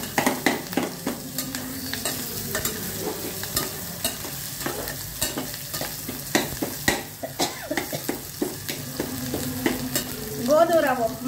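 Green chillies and ginger fry in a pan for wheat rava upma, a steady soft sizzle broken by frequent spoon scrapes and taps against the pan, with a brief cough near the end.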